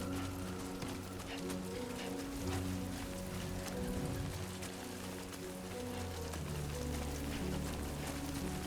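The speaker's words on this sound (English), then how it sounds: "Rain. Gotta move." Steady rain pours in the video game Death Stranding 2, a dense even hiss over a low sustained musical drone, with no voices.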